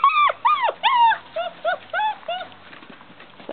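Several dogs whimpering and whining at five-week-old puppies across a fence, a series of short rising-falling nasal cries, close and fairly loud at first, then softer, with no talking.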